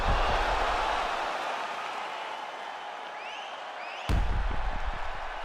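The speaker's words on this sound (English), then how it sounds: "the crowd voicing its appreciation after that round" A crowd in the UFC 5 video game cheers and applauds after a round, a dense, steady roar of noise that swells again sharply near the end.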